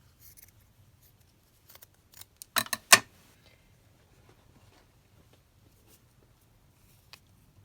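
Scissors cutting paper and lace doilies for a vintage paper pouch, a few quiet snips then a close cluster of crisp cuts, alone in a quiet room.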